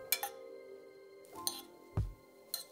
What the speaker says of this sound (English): remove the lid and stir it around with a fork to fluff everything up